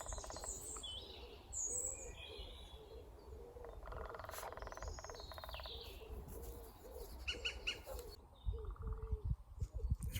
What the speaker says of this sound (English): It's probably a green woodpecker